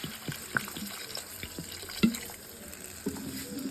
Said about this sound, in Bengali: এখন আমি জল ঢেলে দিলাম।